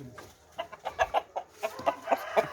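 A chicken clucks in a quick series of short, sharp calls, close and fairly loud, over a quiet background.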